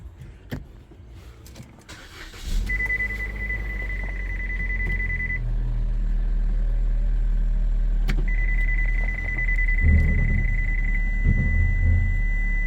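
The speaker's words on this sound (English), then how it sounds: "let's start this engine." A green Peugeot 308's engine cranks and catches, then settles into a steady low idle rumble, with a warning chime beeping twice over the running engine.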